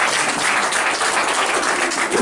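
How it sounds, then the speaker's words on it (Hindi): An audience at a Rotary Club event claps together in a dense, loud, continuous burst of applause, with no talking over it. "उस बच्ची को ताली दो, उसके बजाओ।"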